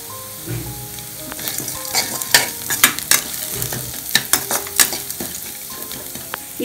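Onions frying golden with a pinch of turmeric in a pan for idli upma, loud crackling sizzle punctuated by frequent sharp spoon scrapes and clatters as they are stirred up close.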